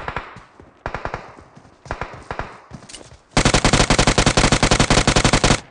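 Rapid gunfire in a mobile shooter game played on an iPad 9: short bursts of close shots, then a loud, sustained automatic volley in steady fast rhythm.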